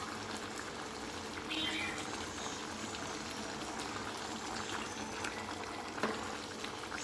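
A pot of spicy chicken gravy boils: continuous thick bubbling and popping, close and moderately loud, with a brief louder blip near the end.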